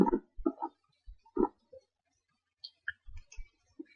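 Mouse clicks as a file is opened on a computer: a handful of short, quiet, separate clicks spread irregularly through an otherwise silent stretch, with no talking.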